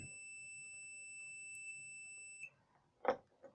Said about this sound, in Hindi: इसमें देखिए बीप भी बजता है।